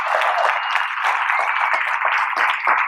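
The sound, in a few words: applause for military members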